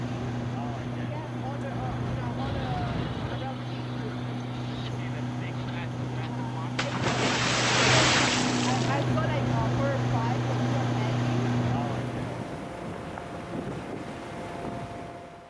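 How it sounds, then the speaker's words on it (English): A Zodiac inflatable boat ride back to an expedition ship in rough, wet Antarctic seas, with a steady outboard motor drone, heavy wind buffeting the microphone and a burst of spray and splashing midway. "Zodiac ride back to the ship was rough and wet."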